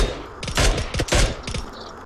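Bursts of rapid gunfire in PUBG, a few quick volleys with short gaps, sharp and fairly loud.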